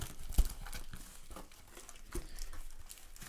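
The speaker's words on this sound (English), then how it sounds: "Just gotta cut that last piece of tape there." Packing tape being cut and torn on a cardboard shipping box, a short sharp rip near the start followed by scattered crinkling and rustling of tape and cardboard, close and moderately loud.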